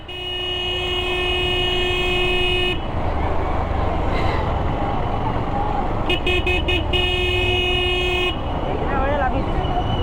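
Busy road traffic jam in Puri near the Jagannath Temple during the Rath festival, repeated car horns honking, several short toots and longer blasts over a constant crowded street rumble, with voices mixed in.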